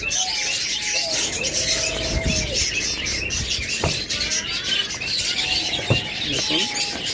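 Prince birds, small parrots kept among lovebirds, cockatiels and budgerigars for sale, chirp and whistle steadily in a dense chorus with occasional coos, with a few sharper calls standing out near the middle and end.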